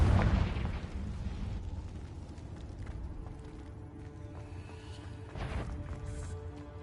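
A Confringo spell explosion in Hogwarts Legacy: a loud blast that decays into a rumbling tail, followed by a second, lighter burst a few seconds later.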